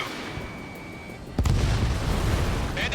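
A sudden loud blast as an enemy aircraft is destroyed by a missile in the Ace Combat 7 aerial combat game, followed by a sustained roaring rumble after an earlier quieter stretch of engine noise.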